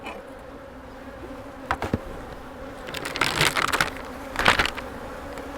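Honey bees buzzing in a bee yard with a steady drone close by, along with scattered crackles and handling noises from hive work.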